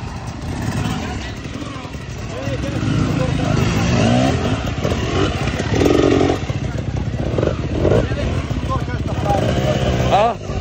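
An enduro motorcycle engine revs repeatedly nearby at an enduro cross race, rising and falling in bursts with clattering, while people talk over the noise.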